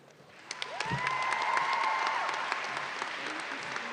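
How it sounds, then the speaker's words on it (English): Audience applause at a high school commencement ceremony, moderate clapping that swells slightly and carries on steadily, with a faint whistle or cheer and scattered crowd noise underneath. "Please give a round of applause for our class president, Riley."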